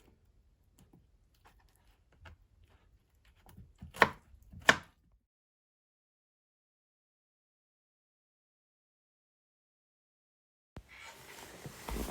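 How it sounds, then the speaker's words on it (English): A knife cuts pineapple into pieces on a board, a few quiet, widely spaced chops with two sharper knocks, then a long stretch of silence and a burst of rustling noise at the end. "I have to cut it into pieces that it will be easy for my blender"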